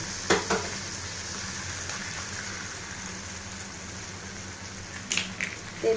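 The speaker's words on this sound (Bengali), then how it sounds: "এদিকে আমি ডিম দিয়ে দিয়েছি।" An egg fries with softened chopped onions in a hot pan, giving a constant even sizzle throughout with a few sharp clicks and spatters near the start and end.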